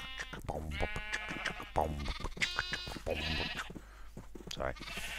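Repeated wavering sheep bleats from a Minecraft video game, several calls in close succession filling the stretch, fairly loud and near, with no talking over them.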